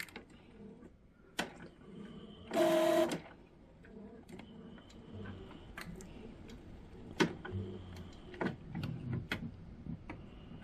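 An Epson ET-7700 printer runs its setup maintenance cycle: quiet mechanical ticks, clicks and soft whirring, with one brief louder motor buzz early on, all fairly faint and close with no talking.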